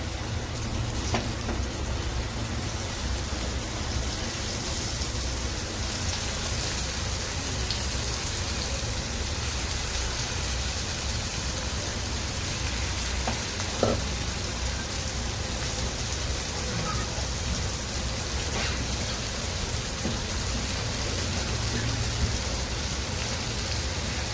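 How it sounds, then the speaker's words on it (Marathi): Prawns fry in hot oil with a continuous, even sizzle and crackle that holds at a moderate level throughout and never breaks, with no voices. "तर मी कोळंबी फ्राय करून घेते त्याच तेलामध्ये"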